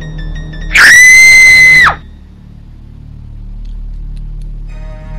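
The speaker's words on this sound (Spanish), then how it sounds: "Claudia pega un alarido extremadamente fuerte, un grito como de un niño que toma suficiente aire como para gritar varios minutos." A woman lets out a piercing, sustained shriek like a child's, loud and steady for about a second before cutting off, leaving a quiet room hum behind.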